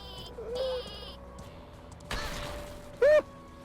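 In the Worms W.M.D video game, the sheep weapon lets out bleats: a couple of short wavering baas, then a loud final bleat near the end, with light game noises between.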